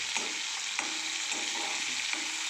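Chopped onion, curry leaves and coriander sauté over medium heat in a pan: a constant close sizzle broken by regular soft stirring strokes every half second or so, with no talking.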